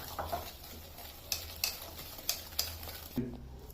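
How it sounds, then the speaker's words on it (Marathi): Ghee mixture for nankhatai being whisked in one direction in a bowl, heard as a few quiet, evenly spaced ticking taps of the whisk against the bowl over a low steady background. "आता ना मी एकाच डायरेक्शनला फेटते"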